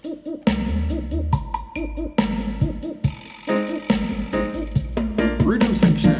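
Full reggae arrangement of the track plays together: deep bass, drums with rolls, offbeat chords and melodic lines, dense and loud throughout with no talking.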